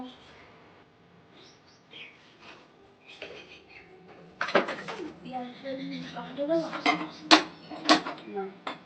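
Metal pot and dishes clatter in a home kitchen as rice is put on to cook, quiet at first, then a burst of louder knocks and scrapes in the second half.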